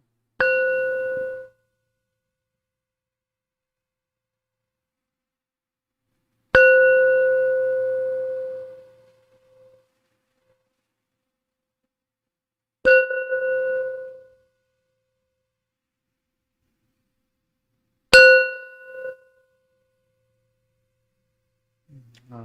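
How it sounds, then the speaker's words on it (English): A Tibetan singing bowl is struck four times at slow, even intervals, each strike giving a clear, pure ringing tone that fades away in the quiet between. "So let's do the bell, the Tibetan singing."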